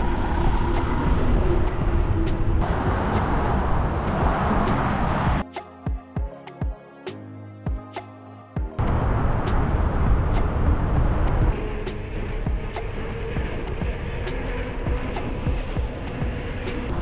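Traffic on Missoula's busy Reserve Street rumbles below a bridge on the Bitterroot Trail, a loud, steady roar of passing cars and trucks with a brief drop mid-way before the wash of road noise returns.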